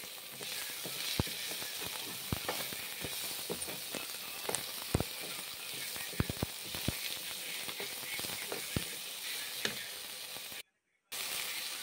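Lentils frying in a wok, a continuous hissing sizzle at moderate level broken by frequent crisp pops and spatula clicks, briefly cutting out near the end, with no one speaking.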